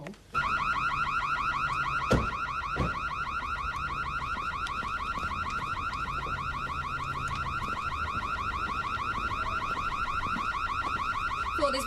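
A car alarm sounds in a police drama scene, a loud continuous rapid warbling tone that starts abruptly and keeps going unbroken, with a couple of thumps over it and no talking during the alarm.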